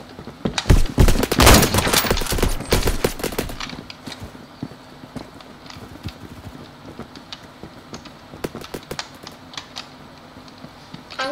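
Rapid bursts of SKS semi-automatic rifle fire in the video game Phantom Forces, loud and dense over the first few seconds, then sporadic distant shots and clatter.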